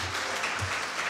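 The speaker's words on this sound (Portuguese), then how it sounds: "Pedir palmas para eles que nos defendam." An audience at a municipal public hearing on citizenship, human rights and a women's council bursts into a short, dense round of clapping that fills the moment evenly.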